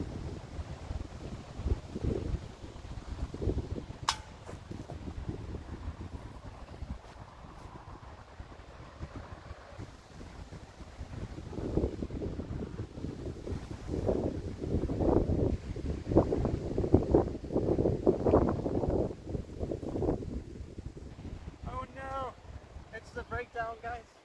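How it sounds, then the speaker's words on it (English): Strong gusts buffet the microphone on an outdoor disc golf course, a rough, rumbling roar that rises and falls and peaks in the middle, while people talk over it. "Gonna be tricky wind though for the putt."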